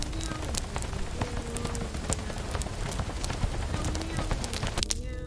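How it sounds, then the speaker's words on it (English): Heavy rain pours down steadily outdoors, a dense hiss of drops with sharp splashes and clicks scattered throughout and a faint tonal hum beneath. "The rain is pouring down."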